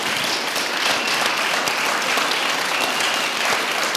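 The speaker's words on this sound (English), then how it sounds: "we're going to do is give him a big round of applause to thank him and his team." Steady, dense applause from an audience at a community summit, filling the room at a constant level throughout with no breaks.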